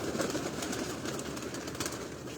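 Pigeons coo softly and continuously on a rooftop in Lahore, several birds overlapping in a low, burbling chorus with faint outdoor background noise.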